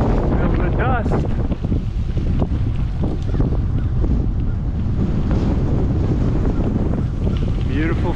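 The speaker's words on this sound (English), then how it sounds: "The wind is kicking up all this dust. Quite a gust." Strong gusty wind on a fall day buffets the microphone with loud continuous roaring rumble while kicking up dust outdoors, with a voice faintly audible under the blustering noise.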